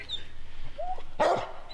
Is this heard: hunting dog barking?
yes